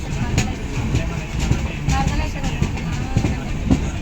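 Rumbling train noise at Gadwal Junction railway station with a regular clickety-clack of wheels on rail joints, heard from inside or near a moving carriage, steady and moderately loud.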